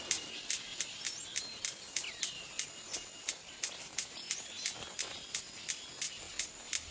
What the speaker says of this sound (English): The rhythmic clicks are made by flicking the wing feathers.